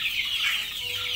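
Chickens clucking in a simple beginner's coop, a dense, shrill chorus of overlapping clucks and squawks, loud and close, with no pauses.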